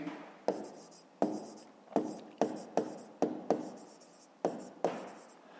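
A pen scratches across paper in about nine quick strokes, each a sharp start that fades, fairly close and quiet.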